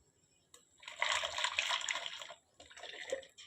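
Strained, blended tomato puree is poured into a cooking pan for tomato jam, a soft liquid splashing that swells for about a second and a half, pauses briefly, then resumes more quietly.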